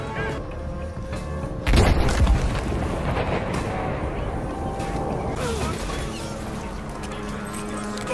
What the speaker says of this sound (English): He just put artillery.